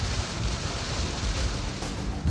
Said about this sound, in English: The winds pick up.